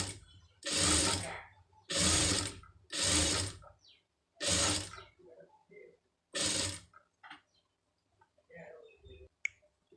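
A sewing machine stitches along one folded side of a fabric piece in several short bursts separated by pauses, close and loud, with quieter clicks and handling noises near the end.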